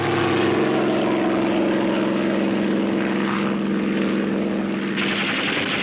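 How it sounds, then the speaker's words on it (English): A German propeller warplane drones loudly and steadily, its engine holding a constant throbbing hum across the whole stretch with no voices. "A German warplane is instantly ordered out."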